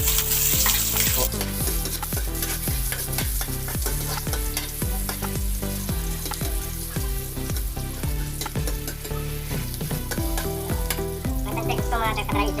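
Onions fry and sizzle in a hot pan for adobo, a loud, steady hiss that lasts throughout, with stirring scrapes and clatter repeating across it.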